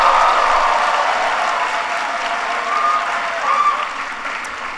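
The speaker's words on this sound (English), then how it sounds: "can everybody please give Grace another big round of applause?" An audience applauds a speaker named Grace at a leadership event, a dense wash of clapping from a large crowd that holds steady and slowly tapers off, with a few faint voices mixed in.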